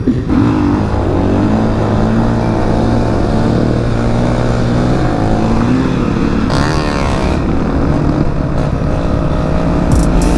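A Honda Grom motorcycle engine screams loud and close, held steady against the rev limiter so the buzzing note stutters and wavers for the whole stretch, with a brief surge in pitch partway through and no talk.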